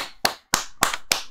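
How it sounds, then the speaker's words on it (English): Four sharp hand claps in an even rhythm, loud and close, cheering the Sony PS5 console reveal, with no talking. "Clap it up for Sony."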